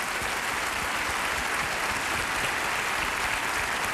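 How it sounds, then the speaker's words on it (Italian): Sustained, loud audience applause fills a television comedy stage show, a dense, steady wash of many hands clapping at once, with no break for the full stretch. "Questo applauso continua ancora"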